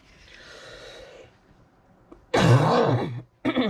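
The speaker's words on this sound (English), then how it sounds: "Sound like I'm coughing up a lung half the time." A person clears their throat and coughs in two close, loud, rough bursts, separated by a short pause and following a stretch of quiet room noise and breathing.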